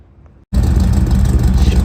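A Z28 Camaro engine catches abruptly after a short quiet stretch and settles into a loud, steady idle with a deep, full rumble, heard alone up close.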